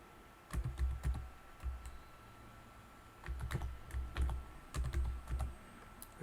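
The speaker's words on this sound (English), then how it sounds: "I type it, I press enter." A password being typed on a computer keyboard at a server controller, several clusters of close, distinct keystrokes with short gaps and a firmer final press, no speech.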